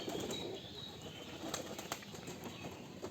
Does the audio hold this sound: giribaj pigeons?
yes